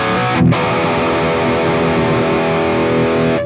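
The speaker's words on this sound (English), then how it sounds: "So overdrive, it's just simple TS style, little green, quirky little boost" A sustained, gritty electric guitar chord through a TS808-style overdrive with drive low and level high, on a Line 6 Helix Stadium XL, rings loud and steady for about three seconds before cutting off.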